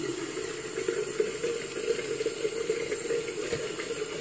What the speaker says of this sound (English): some water on my hands first